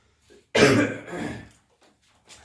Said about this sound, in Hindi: थोड़ी सी खांसी वासी हो गई